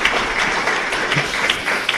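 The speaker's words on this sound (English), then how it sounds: "Everybody's clapping for you" People at a press conference for a soccer coach clap, a busy, even spread of hand claps, moderately loud and continuous, with faint voices murmuring underneath.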